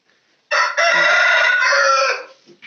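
A rooster at a poultry breeding farm crows once, loud and close, a single long call of about two seconds with nothing else around it.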